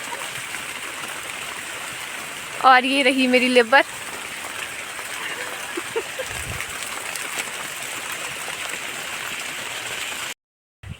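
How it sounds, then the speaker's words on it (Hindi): Heavy rain falls under a plum tree in a steady dense patter and hiss, while someone speaks briefly partway through. "और बारिश बहुत तेज़ हो चुकी है और हम पेड़ के नीचे अब रहे हैं।"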